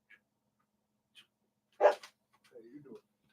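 A dog in a household gives one sharp, close bark, followed by a short, lower whine-like vocal burst, with a few faint ticks before it in an otherwise quiet room.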